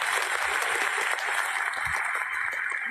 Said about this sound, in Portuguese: Uhul, aplausos.